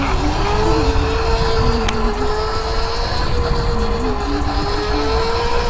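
Small mini moto engine droning steadily while being ridden on a hillside beside a pond, a continuous near buzzing hum with slight pitch wavers and no voices.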